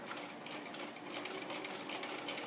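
A domestic sewing machine stitches steadily around a hexie star shape on a stepping stone quilting template, its fast, even motor hum and needle chatter running continuously and close without any talk.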